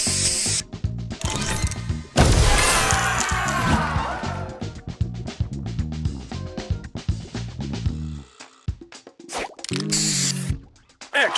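Spray booster effect in the mobile match-three game Match Masters: a loud hissing spray burst followed by a rapid string of clicking, popping tile-clear effects, bright chimes and short ratchety jingles, with a brief pause before more pops.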